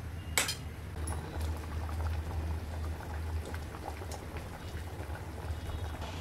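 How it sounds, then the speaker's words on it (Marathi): A pot of village-style vegetable curry simmers steadily on the stove, with a soft continuous bubbling and small pops under a low hum and no voices. "आता मस्त भाजीला आपण शिजू देऊया, 10-15 मिनिटं शिजू देऊया।"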